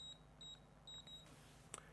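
Electronic safe keypad lock beeping after a new user code is entered, a quick run of about six short high-pitched beeps, fairly faint in a quiet room, then a softer tone and click.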